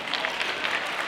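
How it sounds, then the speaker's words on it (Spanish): A brief burst of applause from a small group, many hands clapping at once, fairly close and moderately loud. "Excelente, un aplauso para ustedes."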